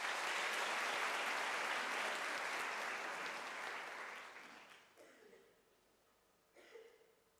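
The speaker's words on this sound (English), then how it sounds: "Shall we give him another round of applause?" A graduation ceremony audience applauds, starting as a loud, dense wash of clapping that gradually thins and fades out over several seconds, with a few scattered claps and light murmurs at the end.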